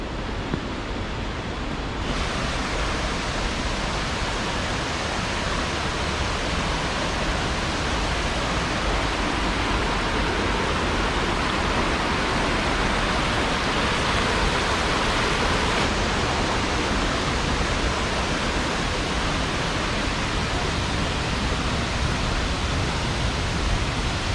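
Steady, loud roar of a waterfall at Phu Thap Boek, a broad unbroken rush of falling water heard close up without pause for the whole stretch.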